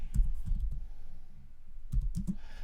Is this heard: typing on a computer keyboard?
yes